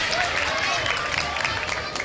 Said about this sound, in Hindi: तालियां बजा दें जी, वाह वाह।